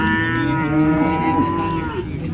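A cow at a cattle market gives a single long, loud, close moo that holds steady before fading out at the end.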